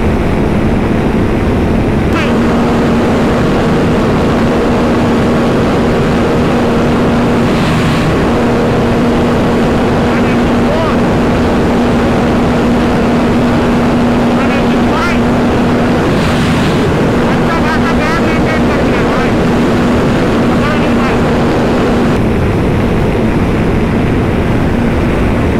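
A Kawasaki Ninja 400 motorcycle runs at high speed in fifth gear with a steady engine drone under heavy, constant wind blast roaring across the microphone.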